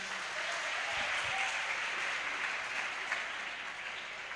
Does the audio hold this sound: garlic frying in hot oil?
no